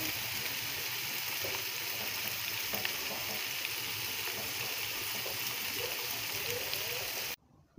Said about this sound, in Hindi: बंद गोभी को 2 मिनट के लिए फ्राई करेंगे